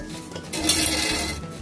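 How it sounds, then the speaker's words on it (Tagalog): Mashed banana mixture being stirred with other ingredients in a bowl, a short burst of utensil scraping and clinking against the bowl, close and fairly loud, with no talking. "haluin lang natin ng ating mga ingredients"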